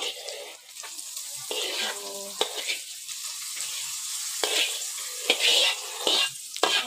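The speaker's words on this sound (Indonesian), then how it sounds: "Cabenya udah halus, saatnya kita guyur sama minyak panas, sama teri Medan tadi ya, semuanya diguyurin ke dalam" Hot oil poured over ground chili and Medan anchovies for sambal, a loud close crackling sizzle broken by bursts of spattering and stirring scrapes that swell and fade over several seconds.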